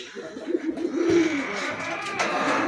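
Soft, low cooing of pigeons close by at a pigeon farm, a few rolling coos over faint background noise.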